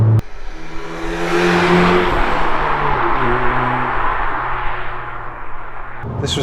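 A modified Audi S1 with Stage 1 tuning accelerates hard from inside the cabin, its engine note climbing through the revs with a gear change, a loud sustained roar that eases off toward the end.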